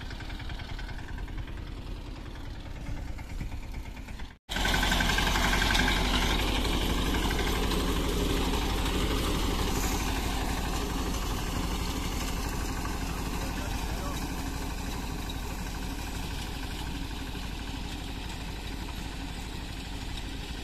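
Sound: mini tractor engine idling

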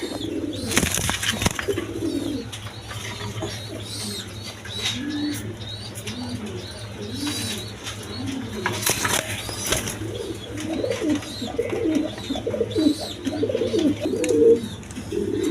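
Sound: Blackless shirting pigeons cooing

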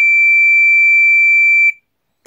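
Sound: Entronic Vigilante ES-3 smoke detector test alarm, continuous piezo

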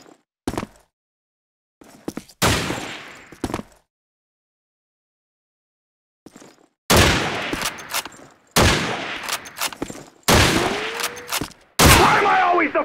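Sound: gunfire in a 1vs1 video game match

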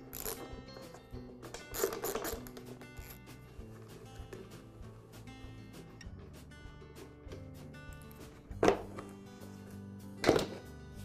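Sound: removing bolts from air compressor pump cover

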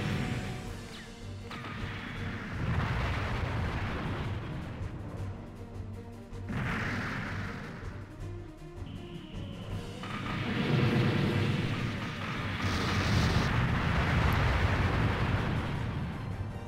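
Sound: missile strike explosions in Gihren's Greed video game

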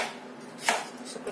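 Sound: chopping carrots into small pieces with a knife

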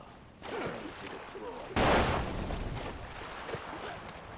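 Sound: gunfire in the video game Ace of Spades

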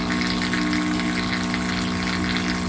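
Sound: dual motor high pressure spray pump running on single motor

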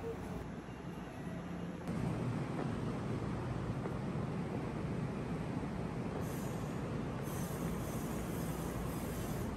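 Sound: train departing Kyoto Station toward Yamato-Saidaiji

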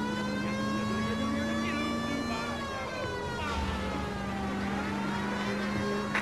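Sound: police car siren in video game LA Noire

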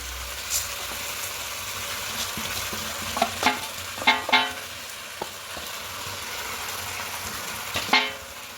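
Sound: drained rice stirred into frying chicken mince for pulao

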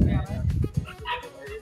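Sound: dogs barking while play-wrestling at a dog farm

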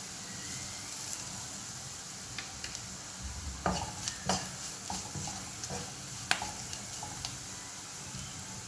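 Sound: stirring turmeric and salt into a cooking pan

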